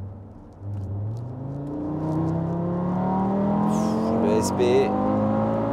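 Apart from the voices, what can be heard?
Audi RS3 Stage 2 engine accelerating hard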